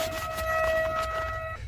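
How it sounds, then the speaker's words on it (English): High-pitched emergency test siren holding one steady shrill tone like a long car horn, close and continuous for a moment before cutting off. "In the clip, the sirens sound quite high-pitched, almost like a car horn beeping long and restlessly."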